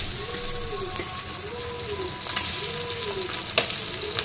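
Diced potatoes sizzle in hot oil in a pan with chillies, a steady close frying hiss with occasional spatter pops and a thin tone warbling in repeated arcs, without talk.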